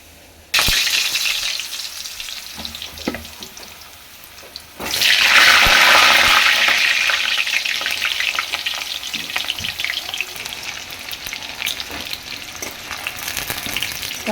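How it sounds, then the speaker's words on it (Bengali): Cut potatoes hitting hot oil in a kadai: a sudden loud sizzle bursts in, then settles into steady crackling frying, with a few faint clatters before it. "এবার আলুটা ভেজে নেব।"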